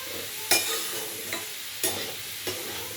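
Onion fries in a pan with a steady sizzle, broken by four sharp scrapes of stirring spaced about a second apart, close and alone without talk.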